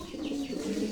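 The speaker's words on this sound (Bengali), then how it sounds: "এখানে রয়েছে এক জোড়া দেখার মতো এক জোড়া কবুতর" A pair of pigeons, King Lahore birds kept on a breeding farm, gives a short, soft, close coo, a single low rolling note with a faint warble.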